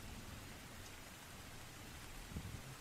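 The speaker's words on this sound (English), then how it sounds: "all you hear is the rumbling of thunder" Rain falls steadily close by with low rumbling thunder rolling underneath, a slightly louder low rumble swelling near the end; no voices.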